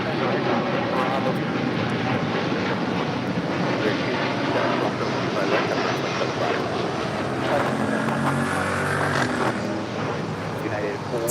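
An American Airlines 787-8 Dreamliner taking off at LAX produces a loud, continuous engine roar with a rising whine, close and sustained throughout, while voices talk over it.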